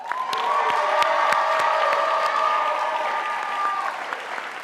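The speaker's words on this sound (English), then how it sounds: "Let's give them another round of applause." A large crowd at a high school graduation applauds steadily with scattered cheers and whoops, loud and continuous throughout.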